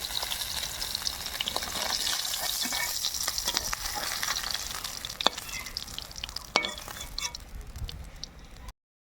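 Small puti fish fry in hot oil in a wok, giving a continuous crackling sizzle with occasional sharper pops and stirring clicks, close and steady until it stops abruptly.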